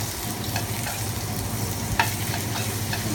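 Fish frying in oil with a knob of grass-fed butter in a pan, a steady close crackling sizzle with faint scraping, continuous throughout.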